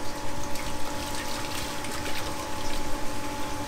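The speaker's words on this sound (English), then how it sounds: "So that's clean water going to the power flushing machine, and then clean water pushing to the system." Power flushing machine pumping clean water through a home heating system, a steady pump drone with churning, trickling water running continuously.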